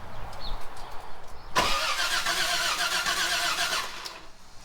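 A Toyota FJ60 engine cranks and catches, a sudden loud burst of rough, sputtering running that holds for a couple of seconds before cutting back, with quiet shop background on either side.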